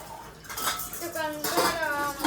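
Dishes, pots and utensils being washed by hand, with close metallic clinks and scraping of pans and cutlery in quick, uneven succession, plus faint voices in the background.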